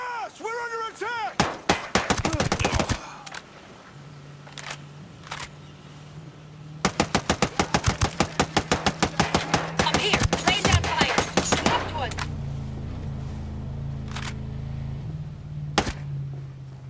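Bursts of automatic gunfire in Ghost Recon Breakpoint, with sharp rapid volleys early on and a longer sustained burst in the middle, set over a low engine-like drone, with voices speaking at times.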